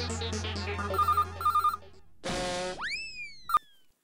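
Phone ringtone in a Hindi TV comedy scene, a bright repeating electronic tune with bursts of rising tones and a boing-like chime, loud and close, with no talking.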